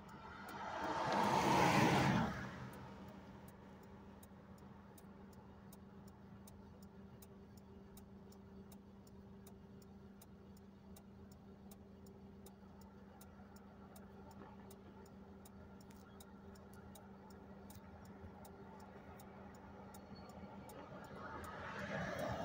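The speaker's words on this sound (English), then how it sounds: "So another car has just pulled up." A car pulls up along a roadside with a loud, close rush of passing traffic at the start. A low, steady idling hum with a faint regular ticking follows, and another vehicle approaches at the end.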